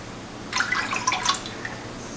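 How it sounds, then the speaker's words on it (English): Plum juice, 5.5 cups, pours into a cooking pot on the stove, a brief close splashing trickle with dripping spatters that rises and fades within about a second. "we're going to go ahead and get our plum juice in here"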